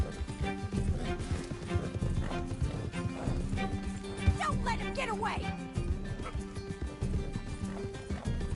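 Horse hooves galloping in Red Dead Redemption 2, with a steady rhythmic clip-clop at moderate volume. A horse whinnies partway through, and people speak over the hoofbeats.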